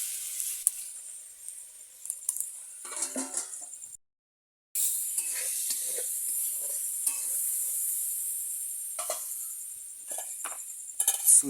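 Potatoes and spices sauté in a pan with a close, steady hiss, stirred with scraping spoon strokes and light metallic clinks, broken by a brief silent gap.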